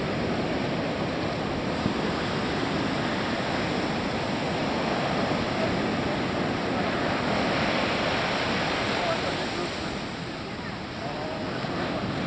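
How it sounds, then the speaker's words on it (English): Ocean surf breaks on a beach on the Mexican coast in a steady broadband wash of waves, with wind buffeting the microphone and no clear separate crashes. "Watch the wave behind you, Martin."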